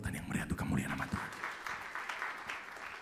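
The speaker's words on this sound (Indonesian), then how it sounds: "Tepuk tangan yang meriah untuk kemuliaan nama Tuhan." A church congregation breaks into applause that swells and then settles into a steady patter, blended with voices throughout.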